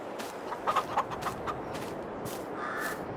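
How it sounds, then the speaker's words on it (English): Chickens in the Farming Simulator 22 game cluck and squawk in a few short, scattered calls over a soft ambient background, moderately distant and without talk. "We just want to come check on the chickens."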